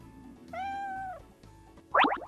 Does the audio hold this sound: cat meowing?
yes